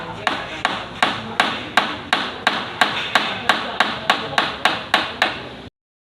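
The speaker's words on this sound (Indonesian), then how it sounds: "di sini saya akan mempraktekkan ballpen hammer" A ball-peen hammer strikes metal in a workshop with a steady series of about fifteen sharp, evenly spaced taps, each ringing briefly, heard close and alone before stopping abruptly.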